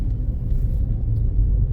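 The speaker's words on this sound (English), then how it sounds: "Yeah, that's a definite misfire." A car with a CVT transmission idles with a low, steady rumble and an engine misfire, heard close up with no talking.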